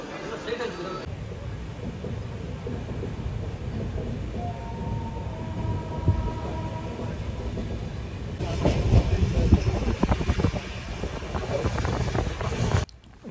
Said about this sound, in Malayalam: ബംഗാർപേട്ട എന്ന് പറയുന്ന റെയിൽവേ സ്റ്റേഷൻ